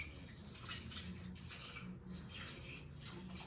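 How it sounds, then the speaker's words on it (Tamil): Water pours steadily into a pot of country chicken gravy in a home kitchen, a continuous close splashing gush that stays even throughout without pause. "இப்போ என்னென்னா தேவையான அளவு தண்ணி ஆட் பண்ணிக்கிறேன்"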